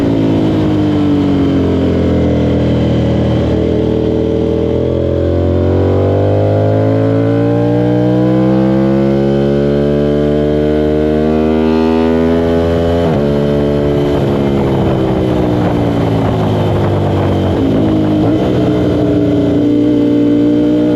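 Sport motorcycle on a race track at a Talladega GP track day, with the rider's engine loud and close, rising in pitch repeatedly as it accelerates out of corners, then briefly dropping before climbing again.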